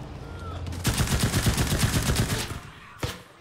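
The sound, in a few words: machine gun fire in the video game Enlisted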